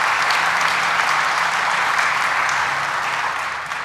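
Loud, dense applause from a church congregation at Victory Lutheran during a jazz concert, sustained clapping that fills the space and tapers slightly at the end.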